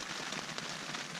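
Steady rain drums on a tent on a mountain ridge campsite, a dense, even hiss with faint patter, close and continuous with no voices.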